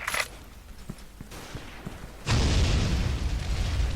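Grenade blast in the online shooter Special Force 2: a few faint clicks and shots, then a sudden loud explosion that booms and rumbles on without a break for the rest of the clip.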